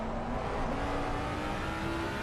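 A race car engine in a sim racing broadcast at Circuit of the Americas, a steady loud drone with a rising engine tone held throughout, no voices.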